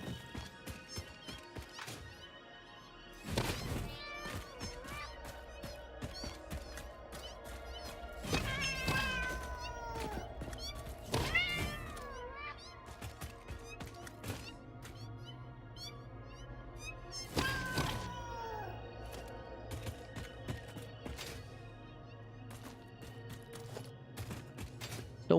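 Yowling, meow-like cries from a spider-cat creature in the video game Satisfactory, several rising and falling calls spread across the stretch amid sharp crashes and thuds, fairly loud against a steady game background.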